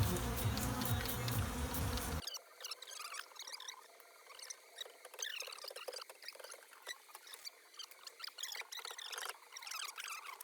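Killer honeybees buzz steadily during a bee removal from brick walls, a dense close swarm drone with no talk, preceded by a louder rush of noise in the first two seconds.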